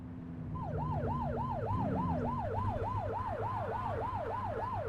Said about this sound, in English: It told me to toggle the siren, so I did.